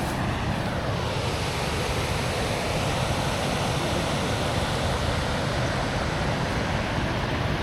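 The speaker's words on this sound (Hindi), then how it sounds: "कितना बेहतरीन वाटरफॉल है ये, देख रहे हैं।" A waterfall at a Mainpat viewpoint in Chhattisgarh gives a steady, dense roar of falling water, continuous and fairly loud throughout with no pauses.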